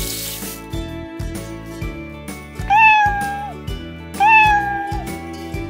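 A cat meows twice, with clear, rising-and-falling tonal cries standing out over a steady musical background, each meow loud and close.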